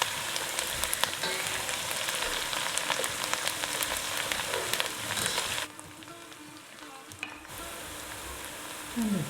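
Chopped onions fry in a pan for a South African crab curry, giving a steady crackling sizzle with occasional stirring clicks; the frying briefly drops quieter midway before the hiss returns.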